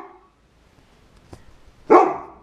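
A house dog guarding the door gives a single sharp, loud bark near the end, following a faint whimper and a quiet stretch.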